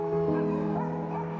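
Abandoned dogs at an animal protection adoption event yip and whimper as strangers approach, a short close burst of high, whiny vocalizing.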